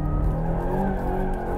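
A 2025 Aston Martin Vantage slides on a race track, its tires squealing over a loud, steady engine roar that runs without a break.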